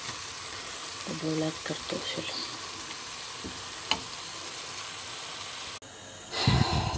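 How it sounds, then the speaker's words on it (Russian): Chopped onion fries in a pan with a soft, steady sizzle and hiss, broken by brief stirring scrapes and a few clicks, while someone talks quietly over it. "Лук сейчас поджарю. Я прям в сковородке это делаю."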